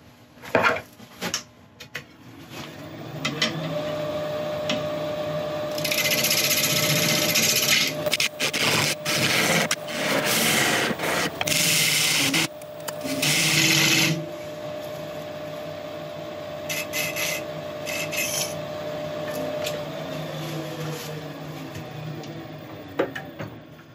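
A lathe turns a yew wood blank while a tenon is cut, a steady motor hum running under bursts of loud scraping from the tool against the spinning wood, heaviest in the middle and easing off toward the end.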